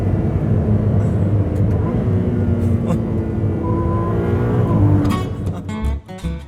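Inside a Ferrari 296 GTB, the 3.0-litre V6 of the plug-in hybrid supercar starts up and rises in a building engine drone with a climbing rev sweep, heard from the cabin while a person talks over it.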